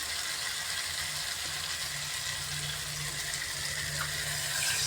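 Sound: water poured into potato fish curry

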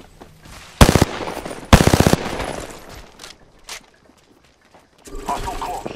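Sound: gunfire in the video game Apex Legends

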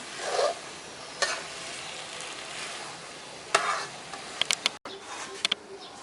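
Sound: stir-frying noodles in a wok

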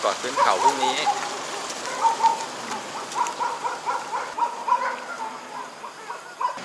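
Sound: rain falling at a resort in Thailand

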